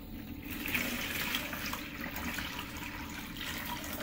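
Boiled water pours steadily into a sitz bath, a continuous close splashing gush that holds at an even level for several seconds.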